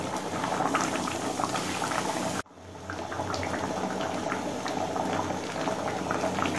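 Mung dal cooked with catla fish heads bubbling steadily in a pot, a close, continuous boil with a brief break partway through before the bubbling resumes.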